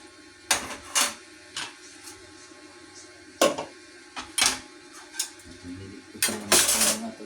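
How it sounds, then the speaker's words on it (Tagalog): A pot lid set down and handled on a pot of tofu on the stove, with a few sharp metallic clinks and clatters scattered through a quiet kitchen. "Tatakpan po natin siya ng ating takip."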